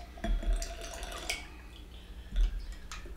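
Single grain scotch whisky from Strathclyde is poured into a glass, giving soft splashing and trickling liquid sounds in two short bursts, faint and close, with no one talking.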